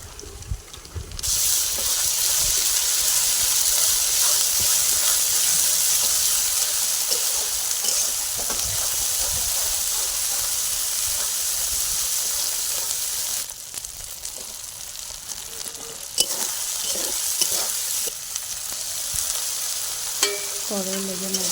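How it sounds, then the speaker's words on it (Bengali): Ground spice paste fries in hot oil for a Bengali chicken curry, a loud dense sizzle and hiss lasting throughout, with occasional scraping stirs and a brief dip before the frying resumes, no voices. "বাটা মশলাগুলো আমি দিয়ে দেবো"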